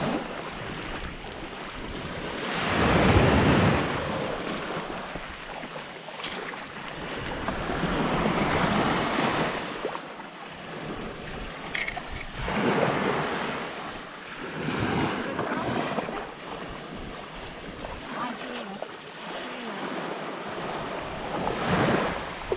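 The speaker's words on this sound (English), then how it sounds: "Just strolling along this beautiful beach in Florida." Ocean waves washing up on a Florida beach, a broad steady roar that swells and recedes in slow surges over wind buffeting the microphone.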